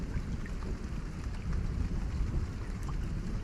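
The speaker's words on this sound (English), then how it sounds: "Now listen to the rain." Soft, steady rain falling against a window late at night in a quiet bedroom, a dense, even hiss of drops with no voices, unbroken for the whole stretch.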